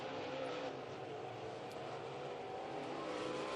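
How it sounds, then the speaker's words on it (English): UMP Canadian Modified race cars roar around the track in a final qualifying heat at a racing event, a steady, distant wash of engine noise with no clear passes or peaks. "3 to go in this final qualifying heat for the UMP Canadian Modifieds"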